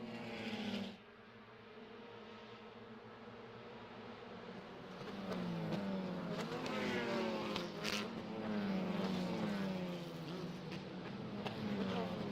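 Race cars circling the track at VIR during a qualifying session, engine drone rising and sustained with passing whine, moderately loud and steady, with a faint commentator voice beneath.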